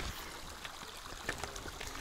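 A small river flowing beneath a bridge near the White Sea, a steady close rushing and trickling of water that holds even throughout, with no voices.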